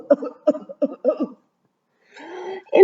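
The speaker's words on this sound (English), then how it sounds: "Hear that cough and that." A person gives a run of four or five short, sharp coughs close to the listener, and after a brief pause some breathy throat noises follow.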